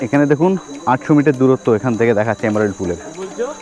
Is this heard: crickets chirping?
yes